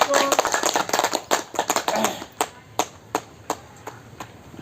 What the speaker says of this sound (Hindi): सभी लोग ताली बजाने में कंजूसी ना करें